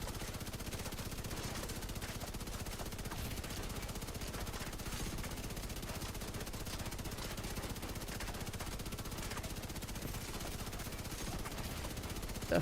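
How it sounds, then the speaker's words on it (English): Sustained rapid automatic gunfire from a Bullet King light machine gun in The Division 2, three players blasting at a manhole, dense and continuous at steady loudness for the whole stretch with no talking. "It's just 3 men blasting a manhole with a Bullet King."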